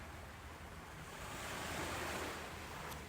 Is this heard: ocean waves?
yes